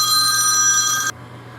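A cell phone rings loudly and close by, a bright electronic tone that holds for about a second and then cuts off abruptly, leaving only faint background hum.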